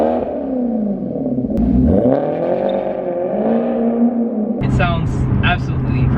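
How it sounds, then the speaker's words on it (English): A Maserati GranTurismo MC's Ferrari-derived V8 revs and rises in pitch, then settles into a deeper rumble with clattery bursts near the end; loud and close, with talk over it. "And that V8 noise, oh my god, just listen to it."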